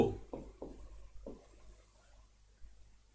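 A few short scratchy strokes of writing on a board, faint and close, spaced irregularly with quiet gaps between them and no talking.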